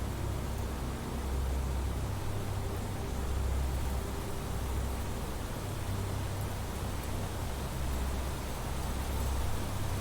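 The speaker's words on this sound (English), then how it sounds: "Rain certainly gets loud, doesn't it?" Heavy rain in the sci-fi survival game The Planet Crafter, a loud, steady wash of dense hiss and low rumble that holds unbroken with no voices over it.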